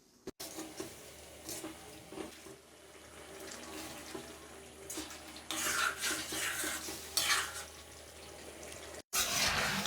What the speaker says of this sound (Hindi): गोश्त डालने के बाद 5 मिनट हम मजीद भुनेंगे।